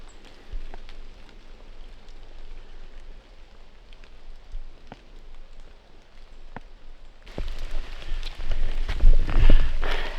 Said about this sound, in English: It's starting to rain like crazy.